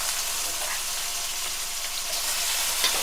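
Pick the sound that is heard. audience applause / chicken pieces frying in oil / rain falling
chicken pieces frying in oil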